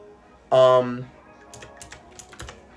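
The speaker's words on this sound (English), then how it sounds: "Let me actually type that in." Keys on a computer keyboard tapped in a few light, scattered clicks after a brief voice, fairly close and quiet.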